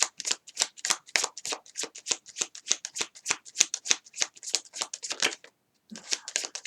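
Tarot cards are shuffled by hand in quick, rhythmic riffles and flicks, close and crisp, with one short pause before the shuffling resumes.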